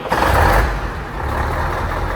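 A Scania truck engine rumbles under load as it starts and runs, with a steady low roar that swells early and then settles into a continuous idle, up close.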